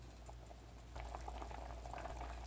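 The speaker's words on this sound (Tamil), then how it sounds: "இந்த புளி தண்ணியோடு நல்லா கொதிக்கட்டும்" Tamarind water for a kadalai (chickpea) kuzhambu boils in a pot, giving a close, continuous bubbling and popping that grows slightly louder after the first second.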